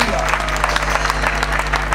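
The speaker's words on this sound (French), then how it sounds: "Clap offering for Jesus Christ." Congregational clapping at a healing and salvation worship weekend in Marcory/Treichville, steady and fairly loud with a low hum underneath, continuing throughout.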